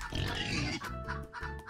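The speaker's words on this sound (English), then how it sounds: "The pig has been slain." A pig oinks and grunts in a video game, a short burst of loud snorting followed by a couple of quieter grunts, close and with no one talking over it.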